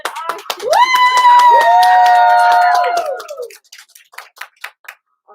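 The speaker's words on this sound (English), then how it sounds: "Mikey, big round of applause!" At an art auction, a crowd cheers and shouts loudly for about three seconds, then a few scattered claps and whoops follow before fading to near silence.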